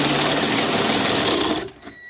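Electric drill biting into aluminum pipe, a steady loud high-pitched whine with grinding texture lasting nearly two seconds before cutting off abruptly.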